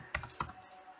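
Keyboard typing while a narration is entered into Tally Prime accounting software, two distinct close key clicks in quick succession and then near quiet.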